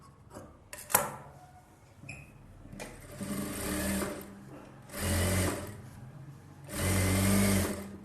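A sewing machine runs edge stitching along a blouse in three separate bursts of steady whirring that grow longer toward the end, with quiet handling noises between them and no talking.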